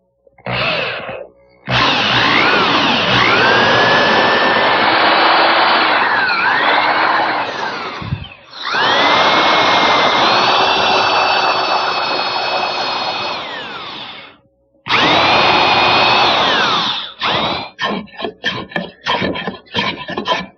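Power drill fitted with a long bit and two extensions boring from the seat of a Windsor chair up into the wooden crest rail, loud sustained whining runs broken by short pauses, ending in rapid stop-start bursts.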